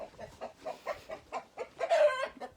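Hens clucking on a farm, a steady run of short, rhythmic clucks close by with a louder, drawn-out squawk near the end, no voices.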